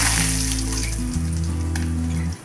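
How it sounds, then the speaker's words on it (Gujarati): Mustard seeds and cumin sizzle and crackle steadily in hot oil in a pan, a close, continuous frying hiss that lasts a couple of seconds before fading. "તેલ ગરમ થઈ ગયું છે હવે રાઈ જીરું એડ કરીશું હિંગ એડ કરીશું"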